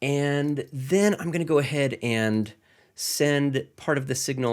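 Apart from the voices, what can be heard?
No everyday noise stands out behind the speech.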